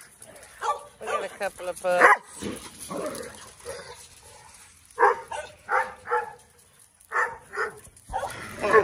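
Young puppies yip and bark in short, high bursts scattered through the stretch, sometimes overlapping with someone talking nearby.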